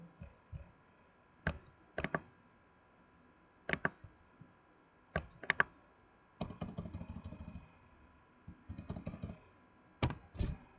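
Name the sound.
typing a web address on a computer keyboard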